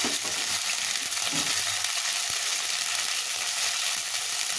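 Spices with turmeric and salt sizzle steadily in a pan, a dense continuous frying hiss with faint stirring scrapes, close and even throughout.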